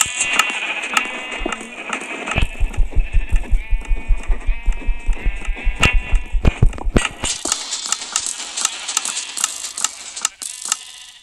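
Blocky sheep in the Minecraft video game bleat over and over in quick bursts, loud and close, over a pulsing rhythmic game sound and a bright tonal background, with no talk.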